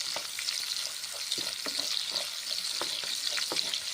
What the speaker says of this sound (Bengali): পেঁয়াজগুলো ভেজে নিচ্ছি নেড়ে চেড়ে।